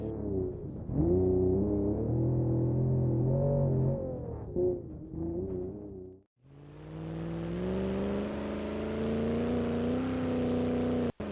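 The Pessima car engine in BeamNG.drive revs steadily, with its pitch rising and falling through a few throttle blips. After a brief cut to silence, a louder, sustained high rev follows, with no talk.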